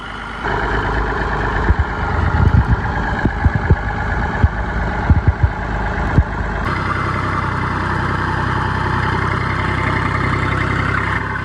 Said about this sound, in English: whereas the 135, that 3-cylinder burble